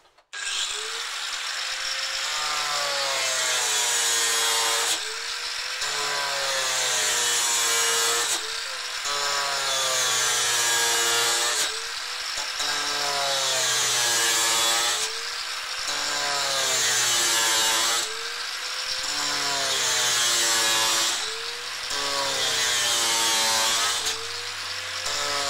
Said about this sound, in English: So just be careful with angle grinders.